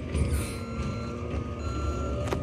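A recycling truck's engine rumbles at close range while a steady electronic reversing beep repeats over it.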